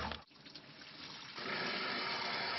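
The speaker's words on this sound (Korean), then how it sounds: "청소를 시작하자 주방 수도꼭지에서 녹물이 쏟아져 나옵니다." Rusty water gushes from a kitchen faucet, a soft hissing pour that turns fuller and steadier partway through, fairly quiet overall.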